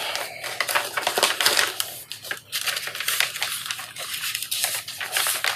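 A paper envelope is opened up close, with continuous crinkling, rustling and tearing that runs throughout.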